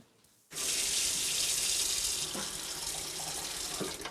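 Water gushes from a tap in an apartment, bursting on suddenly and running loud and steady for several seconds, with faint clinks and knocks near the end.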